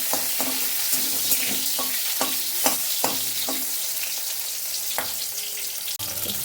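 Chopped garlic and green chili sizzling in hot oil in a pan, a steady crackling fry with repeated sharp scraping clicks of a spatula stirring, close and alone.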